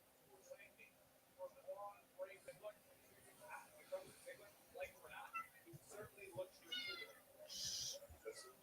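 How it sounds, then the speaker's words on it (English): Faint cat meows come through under ongoing talk, a few high, drawn-out calls near the end standing out above the voices. "I think I hear your cat there."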